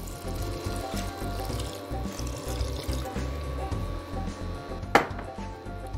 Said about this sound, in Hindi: अब डालते हैं थोड़ा पानी।